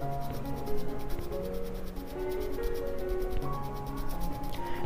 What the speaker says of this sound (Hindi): इन दोनों हाथों को इस तरह रब करना है।